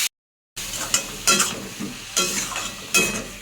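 Pointed gourd mixture stirred in a hot pan, a short silent gap followed by a close sizzle with four or five distinct scraping stir strokes at a loose, gentle rhythm.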